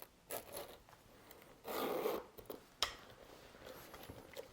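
Zipper slider drawn along the zip of a handmade leather clutch bag, close and fairly quiet, with a few short zips and one longer continuous pull amid light handling rustles.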